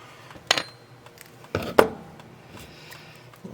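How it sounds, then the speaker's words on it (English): A snipped-off staple from a dust cover repair pings and ricochets around a garage: a sharp metallic tick near the start, then two more close together, with quiet room tone between. "cut one side off, and listen to it bounce off of everything throughout the garage, ricocheting all over the place"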